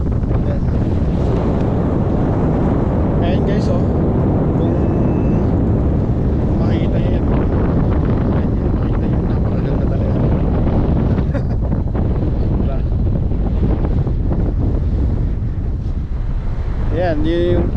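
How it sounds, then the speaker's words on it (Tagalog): Strong wind buffets the microphone outdoors in the lowland area of Pangasinan, a loud, continuous roaring gust throughout, with faint background sounds. "Hindi pwede yung drone kasi ano, malakas yung hangin."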